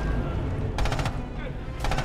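Gunfire in the WWII shooter Red Orchestra 2: Heroes of Stalingrad, during a house defence, with two short bursts of rapid shots over constant battle din and low rumble.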